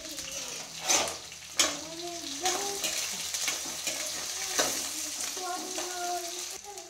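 Onions, green chilies and curry leaves frying in a pan, a steady close sizzle broken by a few sharp stirring scrapes, with a faint voice in the background.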